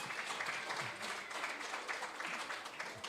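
After a benefit concert for Ukraine, the audience gives a faint, distant round of continuous applause that stays even throughout.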